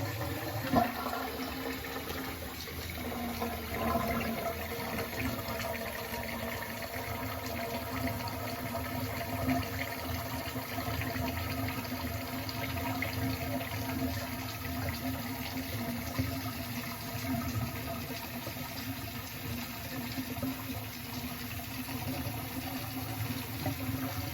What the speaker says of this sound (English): I'm gonna run some hot water again.